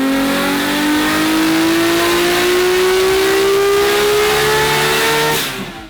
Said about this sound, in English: Then onto the dyno for a checkup.